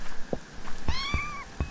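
A cat in the video game Minetest, kept in a fox and cat enclosure, gives one clear, drawn-out meow among a few soft thumps and clicks.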